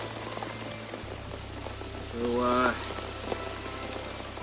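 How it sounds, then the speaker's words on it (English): Heavy rain suddenly pouring down at night on an October wilderness campsite, a steady dense wash of drops that holds throughout, with a short brief word spoken near the start. "Quite suddenly, just started pouring down."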